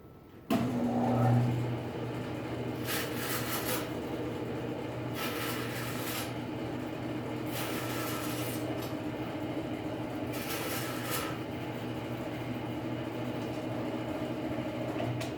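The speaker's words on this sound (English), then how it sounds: "I laid out my dowel rod. I'll take it over to the bandsaw." A bandsaw runs with a steady motor hum while cutting a wooden dowel rod into short pegs, with about four louder rasping cuts spaced a couple of seconds apart.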